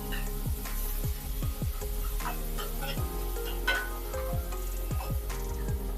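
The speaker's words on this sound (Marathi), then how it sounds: "यामध्ये आता मिरची आणि अद्रक सुद्धा काढून घेऊया आणि चांगलं मिक्स करून घेऊया" Chili and ginger paste stirred into masala rice frying in a hot pan, a steady close sizzle broken by repeated scraping strokes of a spoon, with no talking.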